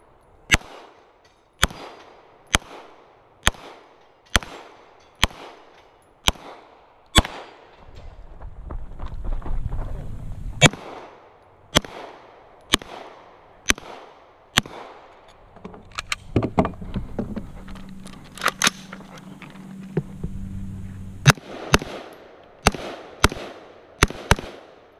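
Sharp gunshots from a Colt M4 rifle crack at an outdoor range during a two-gun match, fired in quick, regular strings. A quieter stretch in the middle carries rustling and handling noise.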